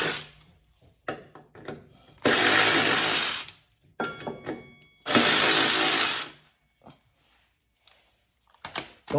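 A small Earthquake impact wrench zips bolts off a Craftsman T110 lawnmower cover in two loud, sustained buzzing bursts, surrounded by light metallic clicks and handling noises.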